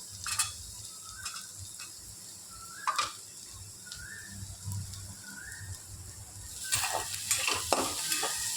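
Ginger and garlic fry with onion in a pan, a steady close sizzle with occasional stirring scrapes, a few faint bird-like chirps in the background, and busier scraping toward the end.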